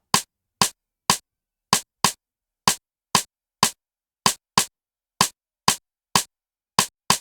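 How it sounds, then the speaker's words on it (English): Rim shot drum sample struck repeatedly, about seventeen sharp dry clicks in an uneven beat pattern, each hit short and crisp with silence between. "so that's how the rim shot sound like."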